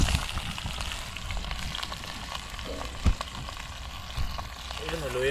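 Fish sizzling steadily as it fries in a crowded pan of hot oil, a continuous close crackle with a few sharper pops along the way.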